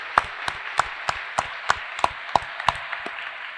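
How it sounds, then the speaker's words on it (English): A small audience claps sparsely for award recipients at a high school cum laude awards ceremony, with about a dozen separate, fairly evenly spaced claps over a few seconds and no voices. "one last final round of applause for these guys"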